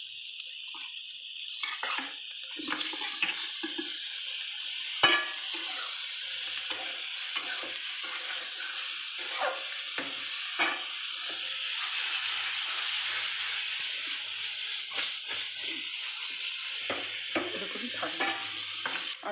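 Lote fish fry in a pan with potato, onion and tomato, giving a continuous sizzle under repeated scraping and stirring clicks from a spatula.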